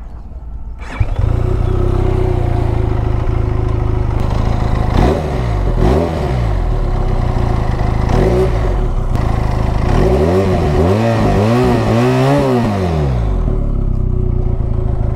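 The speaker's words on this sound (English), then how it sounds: "let's hear the best part of this motorcycle" Benelli Leoncino 500 motorcycle starting up, then idling with a close, loud exhaust note and several sharp throttle blips that rise and fall in pitch, ending in a quick series of revs.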